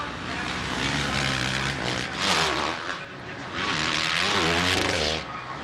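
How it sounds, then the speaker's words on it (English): A 450 Yamaha motorcycle engine screams at high revs during a 2007 Las Vegas Supercross race, rising and falling as it passes, loud and harsh with a race-track roar and no talking. "Really revving that 450 Yamaha out, coming down Thunder Alley there"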